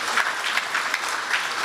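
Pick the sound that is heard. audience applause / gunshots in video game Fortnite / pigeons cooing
audience applause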